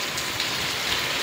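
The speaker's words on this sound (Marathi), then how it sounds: "आपल्या फार्ममध्ये आत्ता बघा पाऊस चालू आहे." Rain falls steadily on a sheep and goat farm, a dense, even hiss of drops with no pauses and no voices.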